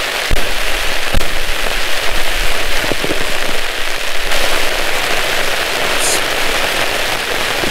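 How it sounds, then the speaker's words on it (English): Freezing rain pounds hard on a camping tent in a spring snowstorm, a loud, dense, unbroken patter close overhead, with a few sharper ticks and thumps of ice hitting the fabric. "It's freezing rain, but it's coming down."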